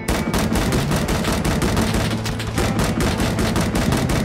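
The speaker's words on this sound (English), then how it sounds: "we're taking fire here" Dense, continuous gunfire in the Vietnam War video game Rising Storm 2: rapid automatic bursts crackling without pause, loud and close, with rumbling booms layered underneath.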